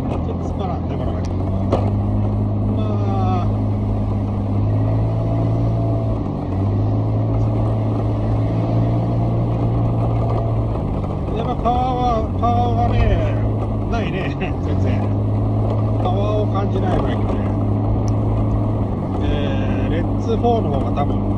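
A 2001 Honda Smart Dio AF57 scooter with a disc brake and an idle stop system runs close by. Its smooth, steady engine drone holds for about twenty seconds, shifting in pitch now and then as the revs rise and fall.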